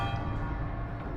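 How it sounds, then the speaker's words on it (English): A bell rings loudly in the video game Death Stranding, a dense sustained metallic clang filling the whole moment with no pause. "Just the bell ringing very, very loudly."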